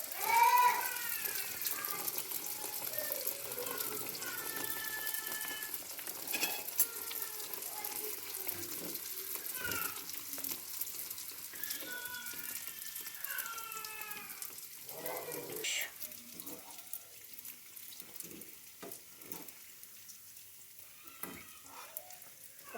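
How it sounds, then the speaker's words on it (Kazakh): Bauyrsak dough pieces frying in hot oil for a Kazakh dish, a steady soft sizzle and bubbling that continues throughout with occasional clinks and stirring, close and moderately quiet, with no talking. "Енді жайлап бауырсақтарымызды салып пісіріп аламыз."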